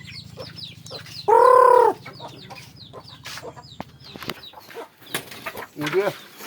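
Native chickens clucking in short, repeated bursts, with one loud, close crow cutting through, while people talk nearby.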